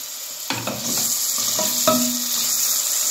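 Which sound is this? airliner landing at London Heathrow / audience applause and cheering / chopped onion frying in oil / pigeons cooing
chopped onion frying in oil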